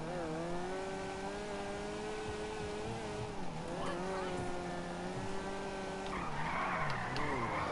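A Weeny Issi Classic car in Grand Theft Auto 5 braking hard and skidding, a steady engine hum with a long tire squeal that bends and wavers throughout, loud and close.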